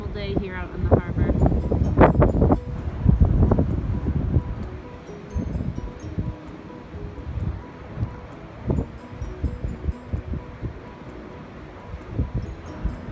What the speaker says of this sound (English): It is a windy, dismal day here out in the harbor.